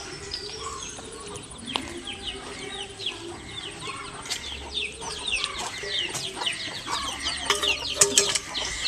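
Chickens clucking and calling near a farm shed, a busy run of short overlapping clucks and squawks that grows livelier toward the end, with faint background noise and no speech.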